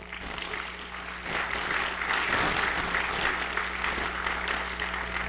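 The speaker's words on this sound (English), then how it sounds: "let's give a round of applause to everybody who worked on this" Audience applause fills a hall at a Hmong American gala celebrating 50 years of progress, a dense steady wash of clapping that swells after the first second and holds loud, with a low steady hum beneath.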